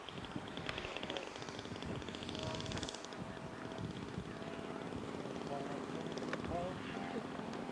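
Scale model aircraft at an outdoor flying show on a gusty, windy day, its engine droning with a moderate hum that rises and falls as it touches down and climbs away, while someone narrates over it.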